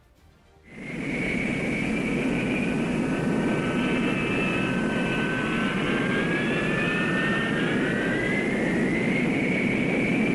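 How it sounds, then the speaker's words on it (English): An F-4B Phantom jet of a Marine fighter attack squadron taxis out for takeoff, its engines starting abruptly and then holding a loud, steady roar with a rising whine throughout, no voices present. "the F-4B of Marine Fighter Attack Squadron 115 taxis out for takeoff"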